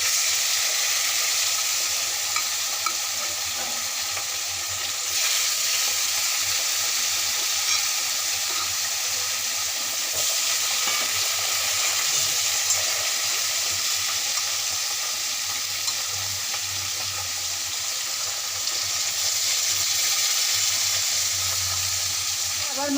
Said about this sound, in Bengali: এবার আবার বাকি মাছগুলোকে একে একে তেলে ছেড়ে দিচ্ছি।